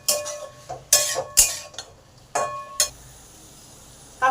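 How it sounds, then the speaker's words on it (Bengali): A spoon knocks and scrapes in a pan as a ground paste of ginger, cumin, coriander and fennel is stir-fried, giving several sharp irregular clinks with quiet gaps between them, up close. "এই বাটা মশলাটা দিয়ে দিলাম। মশলাটাকে একটু ভালো করে কষে নেব।"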